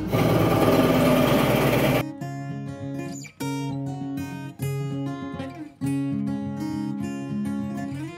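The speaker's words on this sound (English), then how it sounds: "You just drill a couple different size holes all over the place." A power drill runs loudly up close, its motor whining steadily with brief dips and restarts as it bores holes through wood.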